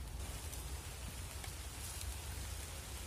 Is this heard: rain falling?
yes